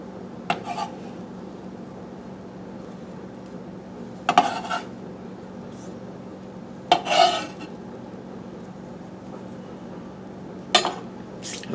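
A knife works chopped onion into cream cheese in a bowl, giving a few sharp clinks and scrapes against the dish, spaced apart over quiet room tone, with no talking.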